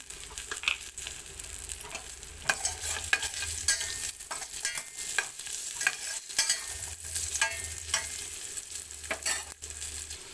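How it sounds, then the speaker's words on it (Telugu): Raisins sizzle and crackle in hot ghee while a spoon stirs them in a pan for a semiya dessert, with steady frying hiss and scattered scraping taps of the spoon on metal throughout, close and moderately loud, no talk. "ఫ్రై చేసుకోవాలండి అలాగే కిస్మిస్ కూడా వేసుకున్నామండి"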